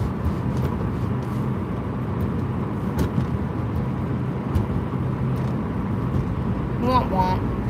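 Interior cabin rumble of a car on the road, a steady low engine and tyre drone running throughout beneath people talking.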